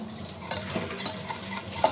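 A whisk scrapes and swirls through a roux in a pan, repeated brushing strokes over a light sizzle, close by, ending with a small metallic tap and no speech.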